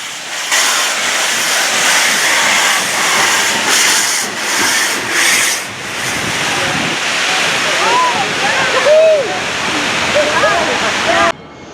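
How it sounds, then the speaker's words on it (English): Union Pacific 4014, a steam locomotive on its maiden run, pulls into a station with a loud, sustained rush of steam and rolling rail noise, brief squeals near the end before it cuts off abruptly. "Finally, 4014 was ready to pull into the station"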